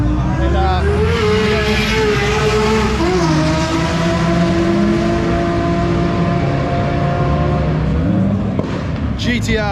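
A 2000 hp twin-turbo Lamborghini on low boost roars loudly from inside the cabin, its engine note climbing steadily through sustained acceleration on a night race run, with a brief shift near the end.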